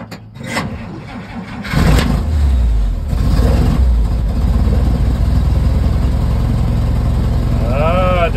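1953 Dodge M37 truck engine cranking, then catching on gas shot down the carburetor and settling into a steady, loud, low rumbling idle close by, with a brief higher whine near the end.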